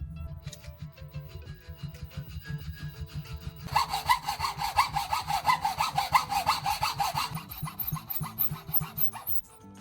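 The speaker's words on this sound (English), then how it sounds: "Using a handsaw, both sides are cut at an angle to form a clean V-shaped groove in the center." A handsaw cuts an angled V-shaped groove in wood, rasping in steady back-and-forth strokes, growing louder and brighter midway, with a rhythmic pulse of each stroke.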